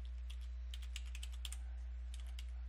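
Commands are typed on a computer keyboard in a quiet room, with soft, close key clicks coming in irregular bursts and short pauses and no voices.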